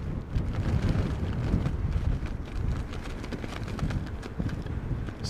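Strong storm wind gusts during Storm Darragh at Heathrow Airport, a loud, steady roar with buffeting rumble across the microphone and no voices.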